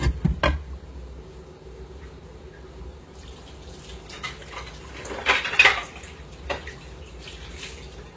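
Ceramic bowls and dishes clatter in a home kitchen while chili is being prepared, with a sharp knock early on and a louder burst of clinking near the middle, plus scattered softer clinks and a faint tap-water wash in the background.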